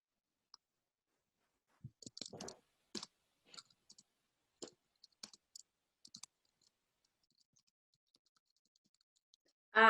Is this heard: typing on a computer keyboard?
yes